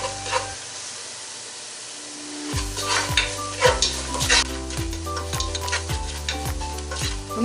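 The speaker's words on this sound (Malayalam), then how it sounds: "ഇനി ലോ ഫ്ലെയിമിൽ ഇട്ടിട്ട് വേണം ഇത് ചൂടാക്കിയെടുക്കാൻ." Coriander, chilli and turmeric powders heat in a pan over a low flame for beef suhari; quiet at first, then a soft sizzle with repeated close scraping stirs, no voices.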